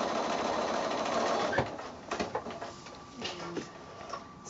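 Sewing machine stitching a quilting seam on a kite block: steady whirring run that stops, followed by a few clicks and short mechanical bursts, close and alone.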